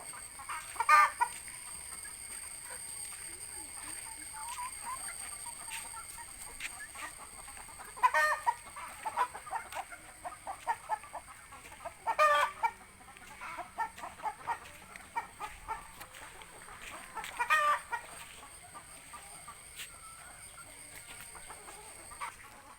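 Brooding native hens on a small backyard farm in Kadakkal, Kollam, give scattered bursts of soft clucking, faint and somewhat distant, separated by quiet stretches with a constant high hum in the background.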